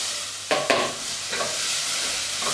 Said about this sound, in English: And we keep sauteing this as well.